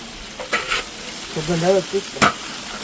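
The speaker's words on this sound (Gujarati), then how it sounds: "શાક વઘારી નાખ્યું છે." Vegetables being tempered for undhiyu sizzle steadily in a pot while a spoon stirs and scrapes in short bursts, with a brief voice-like tone in the middle.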